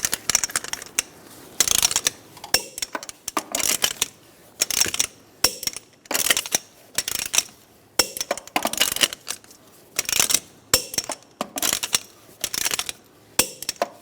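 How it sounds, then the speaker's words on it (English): A torque wrench ratchets as it tightens the wheel lug nuts on a 2007-2012 Nissan Altima, giving loud, close bursts of rapid clicking in repeated pulls separated by short pauses. "I'm going to torque the wheels to 100 foot-pounds."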